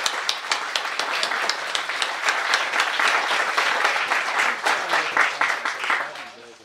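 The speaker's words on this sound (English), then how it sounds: "Please join me in a round of applause as a small token of thanks for that." Sustained round of applause from an audience at a building dedication ceremony, dense overlapping claps holding steady for several seconds before tapering off at the end.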